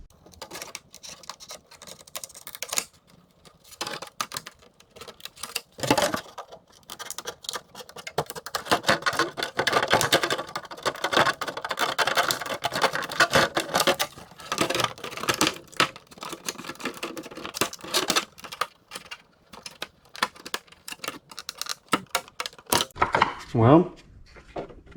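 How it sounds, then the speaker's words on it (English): Lexan scissors snipping across a cheap Axial Base Camp RC truck's polycarbonate body, a steady run of close, crisp crunching cuts with brief pauses. "I'm going to take my handy dandy Lexan scissors and we're going to go straight across here"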